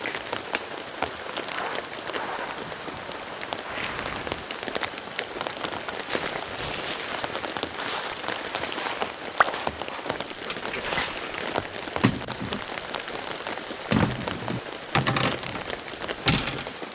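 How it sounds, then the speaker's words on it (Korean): Heavy rain drumming steadily on a tent or car during solo car camping, a dense continuous patter with occasional louder drops, no talking. "오랜만에 빗소리 들으니까 힐링 됩니다."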